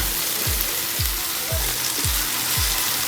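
Shrimp paste (alamang) frying in a pan with tomato for pinakbet, a steady dense sizzle with a few soft rhythmic low thumps from stirring, close and fairly loud with no talking.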